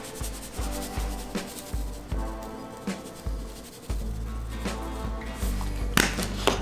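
Hands rub pork rib rub into a raw pork shoulder, giving soft, close, repeated scraping and squishing strokes in an irregular rhythm, with occasional light taps.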